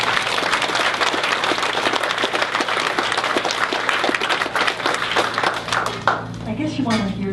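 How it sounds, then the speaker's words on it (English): An audience at a small business and community awards ceremony in Grand Forks, BC applauds the nominees, giving dense, sustained clapping from a crowd in a hall that thins out near the end, with a voice rising at the close. "So round of applause for all of them."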